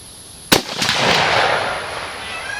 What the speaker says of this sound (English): I'm firing Hornady soft points, 150 grain projectiles.